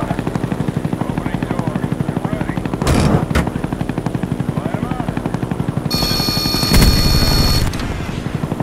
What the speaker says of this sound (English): Friendly Huey inbound.